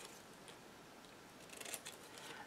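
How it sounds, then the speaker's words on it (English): Scissors snip through paper for a handmade scrapbook mini album, a few quick crisp cuts close up over a steady hiss of room noise. "Now what I'm going to do is grab my scissors"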